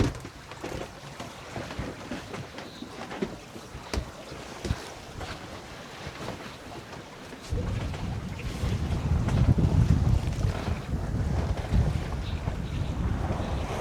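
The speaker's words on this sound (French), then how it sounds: "Donc on est à la voile, le vent s'est levé, ça c'est bien." A sailboat under sail on the Douro river as the wind rises, with steady wind buffeting the microphone and water rushing along the hull, growing louder and more turbulent about halfway through.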